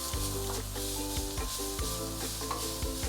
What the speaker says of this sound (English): you can use medium-high heat to slowly fry your pickled radish until it is crispy